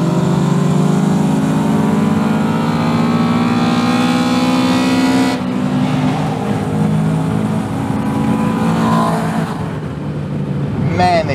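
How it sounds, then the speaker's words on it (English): A modified automatic Honda Accord Euro accelerates hard off the line in a drag race, its loud engine climbing steadily through the revs before an upshift near midway, then pulling on as another car runs close alongside. "Driving the automatic modified Accord Euro."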